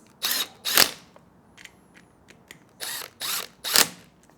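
A 5mm Allen key working a handlebar clamp bolt on a 2024 Triumph Bonneville Bobber, giving five short, sharp ratcheting clicks in two groups, close and crisp against a quiet room.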